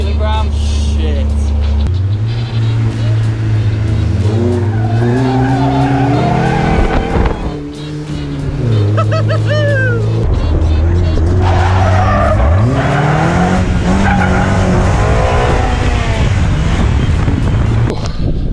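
Honda Civic race car, a US-built 2.5 litre machine of about 235 horsepower in a roughly 650 kg body, skidding with tires squealing, loud and close, with sustained engine drone and rising squeals throughout and brief dips.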